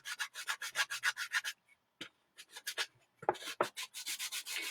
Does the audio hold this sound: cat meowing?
no